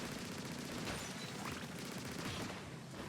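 Steady rapid shooting in Splatoon 3 as missiles are shot down, a faint, continuous stream of quick repeated shots with no pauses.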